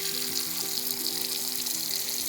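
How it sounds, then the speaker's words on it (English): Cold water runs steadily from a kitchen tap into a pot of just-boiled eggs in a sink, a continuous hissing splash with a faint tonal hum beneath it, close and uninterrupted. "you can add some cold water from the tap now"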